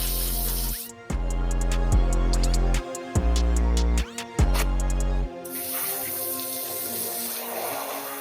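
Running water from a tap sprays over painted, ombre-dyed textured denim pants during a rinse, a loud steady gush broken by several brief splashing interruptions. The flow continues into a rougher spattering toward the end, with no talk.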